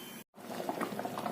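Sugar syrup with grated Totapuri mango begins to boil in a pan, soft close bubbling and popping after a brief gap of silence, with no voices.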